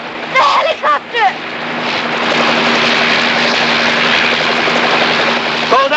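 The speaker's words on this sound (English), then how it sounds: "The helicopter!" A helicopter drones loudly and steadily in the open, its rotor and engine roar building and holding after a few seconds of shouting, with brief voices at the start and end.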